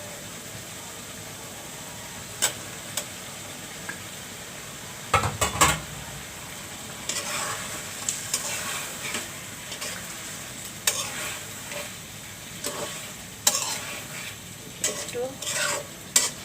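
Fish roe frying in a pan and stirred with a utensil, a steady sizzle broken by scraping strokes and sharp clinks against the metal, close up, with one brief spoken word.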